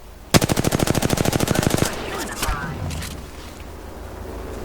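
Rapid automatic gunfire in the Apex Legends video game, a fast burst of evenly spaced shots lasting over a second, followed by scattered impacts and game noise with talk underneath.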